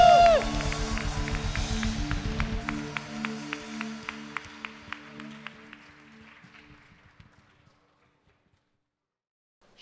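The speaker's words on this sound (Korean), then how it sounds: "우리 다시 한번 주님께 감사와 영광의 박수 올려드리십시오." A church congregation breaks into loud, sustained applause that gradually thins out to a few scattered claps, with steady musical tones underneath before everything fades to silence.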